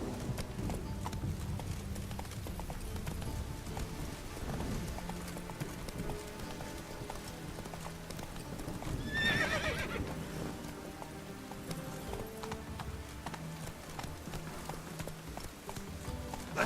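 Roach the horse gallops with steady clip-clop hoofbeats and gives a whinny about midway through The Witcher 3, with a faint rain-like patter underneath and no talking.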